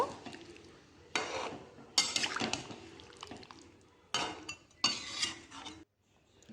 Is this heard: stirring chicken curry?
yes